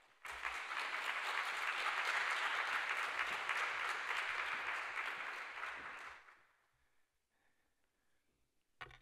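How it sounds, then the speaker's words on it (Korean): A congregation at a dawn church gathering applauds to welcome a pastor, a full, even burst of clapping lasting about six seconds before dying away into near silence. "박수로 한번 모시도록 하죠."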